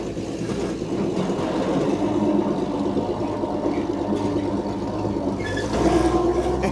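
An old 1953 Chevy dump truck, left fifty years on a ranch, rumbling along under its own power, a steady low engine drone with rattling mechanical noise, close and continuous.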